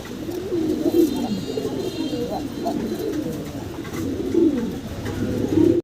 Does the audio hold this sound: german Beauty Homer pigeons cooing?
yes